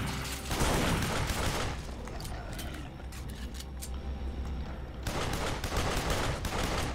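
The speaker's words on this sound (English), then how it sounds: "Whoa, they got shotguns now?" Enemy shotgun fire in the video game Duke Nukem Forever: dense bursts of game gunfire and blasts fill the start and end, with a quieter stretch of mechanical clatter in between.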